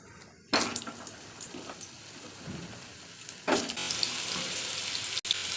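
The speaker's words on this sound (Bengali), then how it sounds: "তেল গরম হয়ে গেছে, আমি কেটে রাখা আলুগুলো দিয়ে দেব।" Cut potatoes dropped into hot oil in a wok burst into a loud sizzle, then settle into a steady frying hiss that swells again with a second addition, close and without talk.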